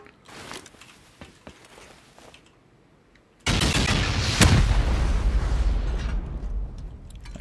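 Rockets fired during a video game raid: scattered quiet clicks and shots, then a sudden loud roaring blast that holds as a sustained rumble with a sharp crack partway through.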